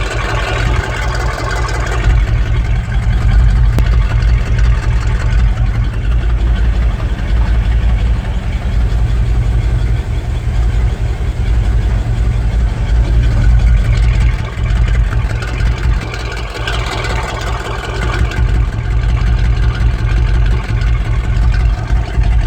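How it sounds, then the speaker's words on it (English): A Chevy engine being diagnosed for a fuel pressure problem idles steadily and loudly for the whole stretch, a deep, even drone with no other sound over it. "Both sides of the engine sound pretty good."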